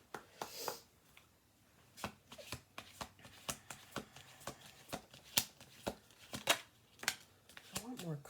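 Tarot cards being shuffled by hand: a run of crisp, close riffles and taps in irregular bursts, a few soft rustles between, with a voice speaking briefly.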